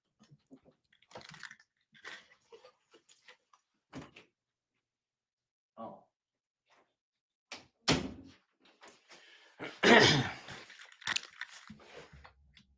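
Door rattled and knocked by the wind indoors, scattered light taps and clicks followed by a couple of louder bangs and thumps, irregular and fairly close, with no talk over them.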